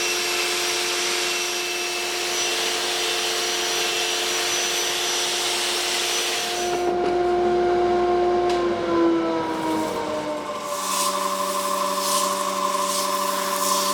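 A wooden bowl is sanded on a lathe through successive grits, giving a steady, loud motor whine with broadband rubbing hiss that shifts in pitch partway through as the machine changes speed, with no talking.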